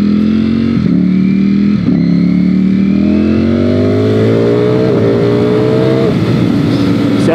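A 2020 Ducati Streetfighter V4 S engine roars loud and close, pulling strongly with a rising tone through several gear changes marked by brief dips, steady and continuous under light wind.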